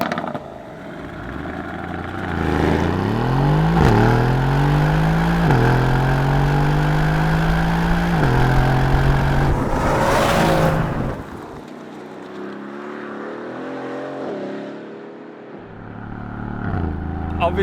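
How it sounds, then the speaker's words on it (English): A 2018 Mercedes-AMG GLC63 S V8 with a bimodal exhaust accelerates hard, its loud roar climbing in pitch through several gear steps before easing off, then growling again near the end. "the ridiculous noise of that V8 and this bimodal exhaust"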